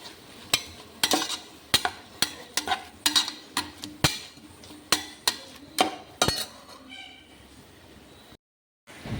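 A spoon stirs and scrapes food sautéing in a pan, a regular series of sharp metallic clacks against the pan over faint sizzling, ending in a brief silence.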